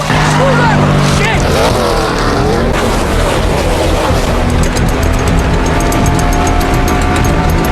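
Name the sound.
race car engine revving at pit stop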